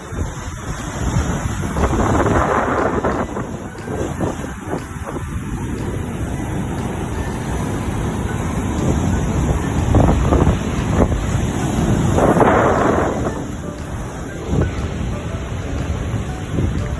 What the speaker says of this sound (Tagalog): sobrang lakas ng hangin at ng alon